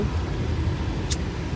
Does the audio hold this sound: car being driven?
yes